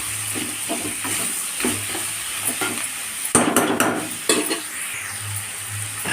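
Tomatoes go into a pan of chicken curry and are stirred, with scraping spoon strokes, soft clinks against the pan and a light sizzle running underneath, closely miked with no talking.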